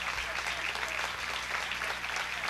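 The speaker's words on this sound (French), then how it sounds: "j'aimerais qu'on les accueille comme il se doit, avec une bonne main d'applaudissement, tout le monde ensemble" An audience in a bar applauds together to welcome performers, a steady wash of clapping that holds evenly throughout at moderate loudness.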